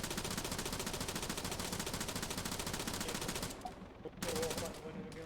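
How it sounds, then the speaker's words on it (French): A Zafir machine gun in a war video game fires a long, rapid, steady burst for several seconds, then stops, leaving a short quieter gap before a few more shots follow. "c'est qui vient de tuer le pilote d'un hélico avec une Zafir? Bah c'est moi en tirant comme un débile"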